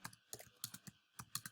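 Computer keyboard typing while entering Python code in a Django project, heard as quick clustered bursts of crisp key clicks with short pauses between, close and alone.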